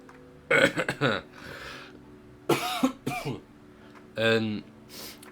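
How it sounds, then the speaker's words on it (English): A string of rough, throaty coughs and throat-clearing spread over a few seconds, close to the listener, with brief voiced bits between them. "Sorry for my cough"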